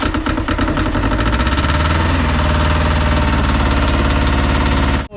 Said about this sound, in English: Tractor all running,